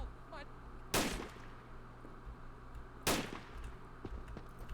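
Sniper rifle fire in Men of War: Assault Squad 2 on an Army Men mod battlefield: two sharp, loud single cracks about two seconds apart over a low ambient hum, with no talk.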